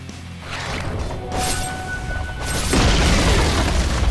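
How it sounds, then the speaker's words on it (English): A tower collapsing in the Dota 2 video game: one heavy booming crash swells and rolls on with a crumbling rumble, loud and dense for several seconds, with no voices. "Radiant's bottom tower has fallen."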